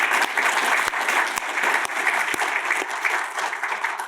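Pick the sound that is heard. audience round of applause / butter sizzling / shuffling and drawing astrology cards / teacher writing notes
audience round of applause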